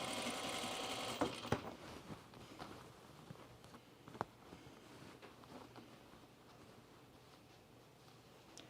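A sewing machine stitches pants with a fast, even whirring run that is loudest at the start, then continues more faintly with a few sharp clicks and taps along the way.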